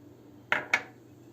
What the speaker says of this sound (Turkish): Şimdi cevizlerimi döküyorum.